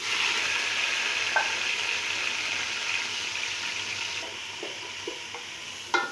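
Sliced tomatoes frying in oil with whole spices, a steady close sizzle throughout with a few soft clinks and stirring knocks, and a sharper scrape near the end.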